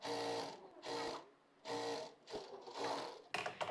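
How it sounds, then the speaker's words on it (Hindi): A sewing machine runs in bursts, stitching a half-inch seam on the side gusset of a double-layer gharara dress, with four stitching runs separated by short pauses and a few quick final taps, close and clear with no talking. "यहाँ पर हाफ इंच दबाते हुए स्टिच लगाएंगे।"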